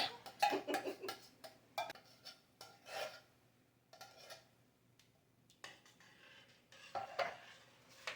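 A pot of corn chowder being scraped out during cooking, with a series of short, uneven rasping strokes of utensil on metal, close and fairly loud, with no talk.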